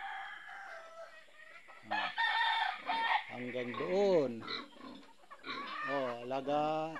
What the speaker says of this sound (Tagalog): Dito ang dami manok. Pangsabong yan, halos lahat.